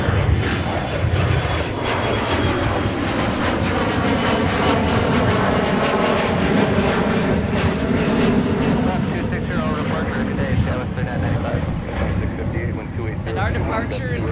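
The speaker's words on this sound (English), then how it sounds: "our departures are off the 30s today, and they are getting up and out of here in a hurry because of these winds" Airliners departing Minneapolis–St. Paul airport in strong gusty wind, a loud continuous jet roar with shifting engine tones and heavy wind buffeting throughout, with a person talking over it.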